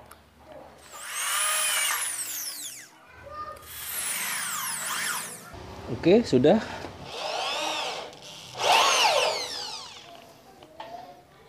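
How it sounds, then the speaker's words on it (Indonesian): A power drill whines in several long bursts drilling lightweight steel C-channel, its pitch sweeping up and down, separated by short pauses; a voice speaks briefly between them. "kita bor."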